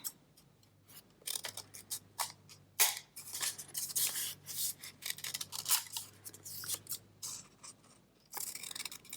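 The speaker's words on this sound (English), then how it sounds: "So let's cut out the second one." Scissors cutting out paper, with close, quiet crisp snips and rustling strokes in an irregular run, briefly pausing before the cutting resumes.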